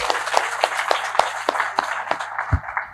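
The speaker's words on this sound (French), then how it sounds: "je voudrais que vous applaudissiez nos amis de Marrakech" Audience clapping at a welcome address by club presidents, a sparse, fairly regular run of individual claps standing out over a light room murmur, close and moderately loud.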